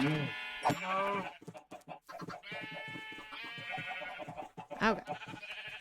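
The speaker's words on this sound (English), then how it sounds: "Only sheep." Minecraft sheep bleat repeatedly, several wavering nasal calls in a row, with a player speaking briefly over them and game sounds around.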